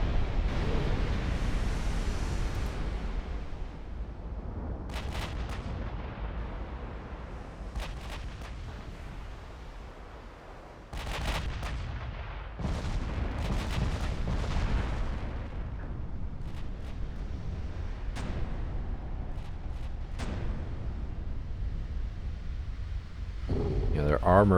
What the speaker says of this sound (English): Belt ammo detonation, actually.